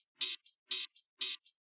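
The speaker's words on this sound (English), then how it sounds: "So the hi-hat sounds like this." Hi-hat sample from a free VST plugin, six crisp bright ticks in a quick alternating long-short pattern, dry and close, heard alone.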